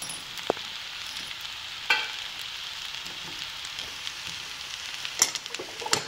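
Sabudana khichdi with peanuts and potato being stir-fried in a pan, a low steady sizzle broken by a few sharp clinks and scrapes of the spoon, heard close up.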